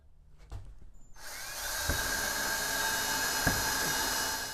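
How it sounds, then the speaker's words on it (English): A power drill starts up after a few brief taps and runs steadily at high speed, whining loudly and continuously as it bores a pilot hole inside an enclosed trailer for a spare tire mount. "And then I'm just going to drill a pilot hole."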